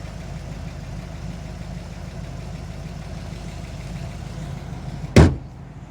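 A 1962 Chevrolet Corvette with a 327 cubic-inch, 340-horsepower V8 idles with a steady, even low rumble, and a single sharp thump sounds near the end.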